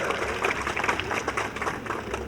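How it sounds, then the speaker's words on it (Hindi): A crowd at a BJP election rally in Churu claps together in dense, sustained applause without a break. "फिर ताली दम लगाओ।"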